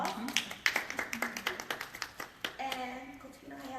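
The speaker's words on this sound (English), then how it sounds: "If y'all would just give them a round of applause." A small audience claps for a panel, a modest round of irregular handclaps at moderate loudness, with a voice talking over parts of it.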